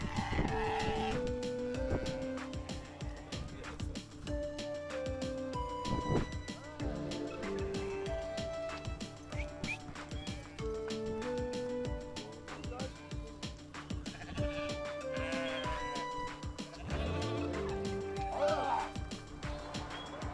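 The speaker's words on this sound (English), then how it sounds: "Shepherds on horseback drove sheep right along the road." Flock of sheep bleating repeatedly as shepherds on horseback drive them along a road in Armenia, with many overlapping calls near and far among the mixed background noise.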